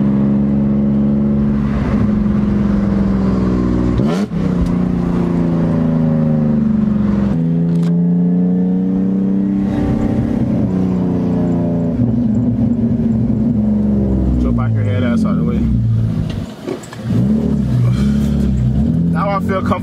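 A BMW E46 car engine hums steadily as the vehicle drives, the pitch rising and falling through gear changes, with a voice talking over it.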